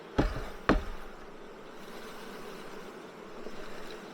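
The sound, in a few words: honey bees buzzing from bee package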